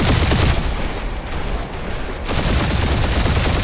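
Heavy enemy gunfire in the Guardians of the Galaxy video game, loud continuous automatic bursts that ease briefly in the middle, then return at full intensity.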